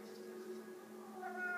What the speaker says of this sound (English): Cat! Be quiet!